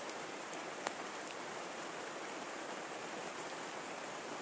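Steady rain falling outdoors in a rural village, a dense, even hiss that holds constant throughout with one faint tap near the start and no voices.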